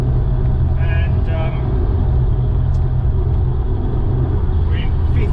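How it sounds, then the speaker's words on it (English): Porsche Boxster 987 fitted with a modified Carnewal exhaust, cruising at 50 mph in fifth gear around 2,500 rpm, gives a steady low droning rumble throughout, close and continuous, with a few faint brief sounds above it. "this is what the car sounds like"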